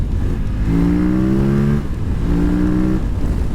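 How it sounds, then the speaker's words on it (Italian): A KTM 950 LC8 Adventure motorcycle engine revs up hard twice toward 9000 rpm, rising in pitch with each pull, loud and close over a steady rumbling background. "Sentite la spinta inesauribile a 9000 giri"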